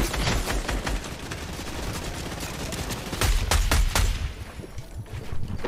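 Fortnite gunfire in a duo arena match: a steady, sustained stream of shots that grows louder and heavier near the end, with no voices over it.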